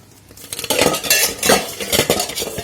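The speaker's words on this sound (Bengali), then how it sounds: "এই যে বড়া নামালাম, আবার এখানে দিয়েছি আরেক ব্যাচ।" Fried lentil fritters (bora) lifted out of a pan of oil with a metal utensil, giving repeated close scraping and clinking of metal against the pan, with faint sizzling underneath.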